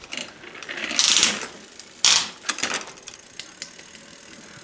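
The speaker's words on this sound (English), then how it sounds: "if you crank the crank and pedal the pedals" A reconditioned Trek bicycle's crank and pedals being turned by hand, driving the chain with a close mechanical whirring and ticking, two louder surges early on, then softer clicking.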